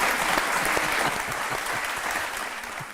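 Studio audience applauding steadily at a televised interview show, a dense, even wash of clapping that holds for the full stretch and tapers slightly toward the end.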